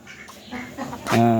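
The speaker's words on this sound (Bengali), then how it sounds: "তো হাঁসগুলো আবার আসলো" Domestic ducks call from close by in a farmyard, a short run of loud nasal quacks that swells near the end after quieter background murmur.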